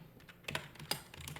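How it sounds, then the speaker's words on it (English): Fingers tap a computer keyboard in a short, uneven run of keystrokes, a few sharper clicks standing out over quiet room tone, close and fairly soft. "I'm struggling typing, guys. I don't type on this computer."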